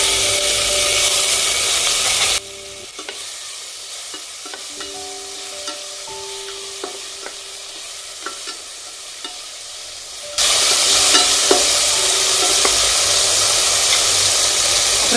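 Shallots and tomato drop into hot tempering oil for a jackfruit seed sambar, setting off a loud sizzle that softens into steady frying with stirring and light scraping, then swells loud again near the end.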